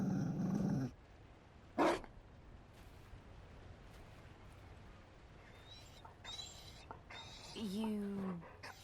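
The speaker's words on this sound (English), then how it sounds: "You found a dog." A Mabari dog growls softly in Dragon Age Inquisition, one short low rumble standing alone amid quiet ambience, with faint chirps and brief sounds around it.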